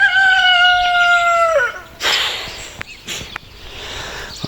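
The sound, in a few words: rooster crowing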